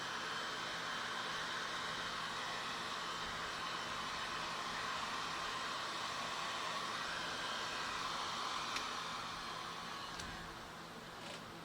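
A heat gun blows steadily on heat-shrink tubing over soldered stereo wires in a 1994 Ford Probe GT, a continuous airy hiss and hum for several seconds that eases off near the end.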